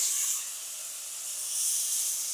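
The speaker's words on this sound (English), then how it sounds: "We're basting our seafood on the grill." Cajun butter-basted salmon and shrimp sizzle on a grill, giving a steady soft hiss that swells and eases slightly.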